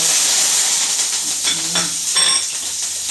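Steady crackling sizzle of mustard seeds and urad dal frying in hot oil, close and continuous, with faint stirring clinks and no talking.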